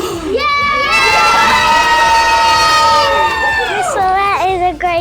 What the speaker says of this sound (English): Can I hear a cheer?